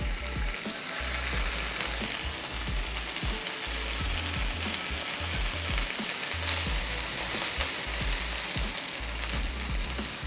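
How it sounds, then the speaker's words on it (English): Green beans sauté with garlic in a hot pan, giving a strong, continuous sizzle with scattered stirring scrapes and no voices. "I'm gonna take my green beans and throw them into this pan now."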